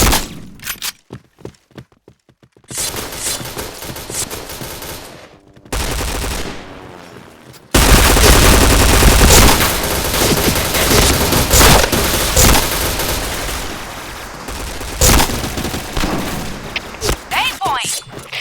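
P90 gunfire in a video game comes in rapid automatic bursts, sparse and choppy at first, then loud and nearly continuous.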